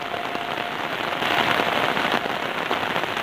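Heavy rain pours down over a village, a steady dense hiss of drops with no voices, holding loud and even throughout with a slight swell in the middle.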